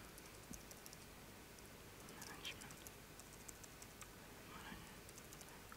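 Faint, rapid clicking of computer keyboard keys in uneven bursts, quiet and close, with no talking.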